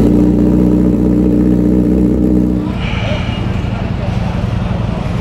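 A 2024 BMW S1000RR motorcycle engine runs with a loud, steady mechanical drone for about two and a half seconds, then drops to a rougher, pulsing lower note close by.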